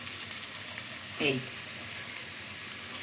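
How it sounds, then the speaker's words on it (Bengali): Chopped onion frying in a pan together with browned onion paste, a steady close sizzle running throughout, with a brief stir or clatter near the middle and a single short spoken word. "পেঁয়াজ কুচিটাকে এখন এই পেঁয়াজ বাটার সাথে ভালো করে ভেজে নেব"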